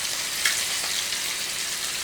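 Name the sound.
nethallu fish frying in oil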